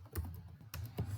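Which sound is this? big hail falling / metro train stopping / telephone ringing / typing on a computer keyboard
typing on a computer keyboard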